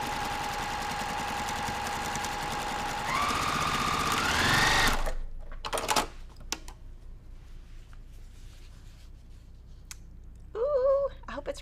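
A sewing machine stitches a quilt block in a steady close whir for about five seconds, then stops, leaving fabric rustling, a few clicks and handling sounds with a brief hum near the end.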